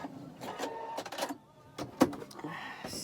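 A sewing machine back-stitches a face mask in short bursts of rapid mechanical chatter, a few quick runs separated by brief pauses, close and fairly quiet.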